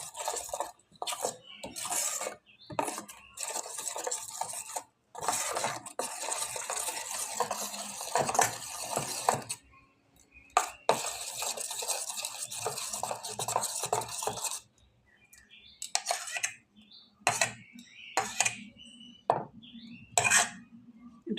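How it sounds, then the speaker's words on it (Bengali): A lentil and egg batter is stirred inside a tiffin box, making repeated scraping and clinking strokes in bursts, with short pauses between them and no voices. "টিফিন বক্সে আমি এটা মিশাচ্ছি"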